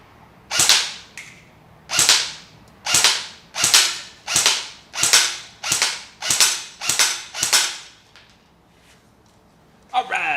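A KWA VM4 X-10 airsoft AEG rifle fires ten single shots in a steady rhythm roughly a second apart, each a sharp close snap with a brief whir of the gearbox, followed by quiet and a faint clatter at the end.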